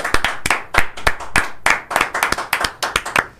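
Hand clapping from a small group, a quick uneven run of sharp, close claps with no talk.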